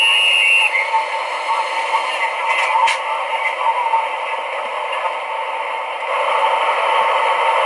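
Shunter's radio calls play from the DCC sound decoder of a Lenz O scale DB BR360 diesel locomotive model, crackly, band-limited voice transmissions over a constant hiss, heard close and fairly loud.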